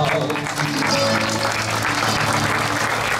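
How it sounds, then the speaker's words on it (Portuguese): A large outdoor crowd at the Sanjoaninas festival in front of the town hall on Terceira Island, Azores, claps steadily and continuously, dense applause filling the space with a hum of voices underneath. "Vamos dar palmas com fé"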